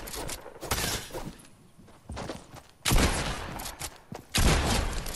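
Pump shotgun blasts in a video game: a few loud, heavy booms spaced a second or more apart, with quieter rattling and shuffling in the gaps.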